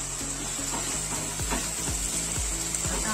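Tomato puree sizzling in hot oil for Kolhapuri misal, a steady close fry with soft crackles over a constant hiss, no voices.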